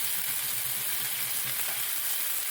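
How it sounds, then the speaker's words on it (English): Bacon frying in a pan, a steady close sizzle with a dense, even crackle that holds throughout, no voices. "Meanwhile my bacon is frying away,"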